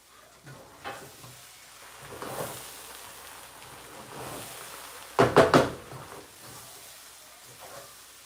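Spinach soup being stirred in a pot on a stove, with soft scraping and a faint sizzle, scattered clinks, and a quick cluster of sharp knocks of the spoon against the pot partway through.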